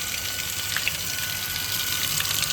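A tap runs in a constant loud hiss of gushing water, close and unbroken, with faint splashes and no speech.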